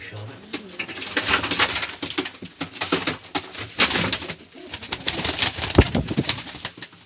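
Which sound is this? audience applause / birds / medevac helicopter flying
birds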